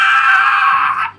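A voice imitates a high-pitched, shrill scream, one sustained, loud, piercing cry lasting about a second before it breaks off abruptly.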